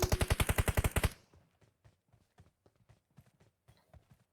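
Gunfire in the PUBG Mobile video game: a rapid automatic burst of about ten loud, evenly spaced shots, then scattered quieter distant shots and clicks that keep coming irregularly.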